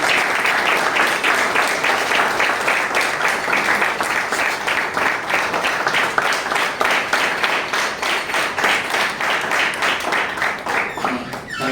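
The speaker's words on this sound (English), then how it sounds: "can we give them a round of applause?" An audience gives a round of applause at a morning student ideas event, dense sustained clapping from a large group that holds steady throughout at full volume.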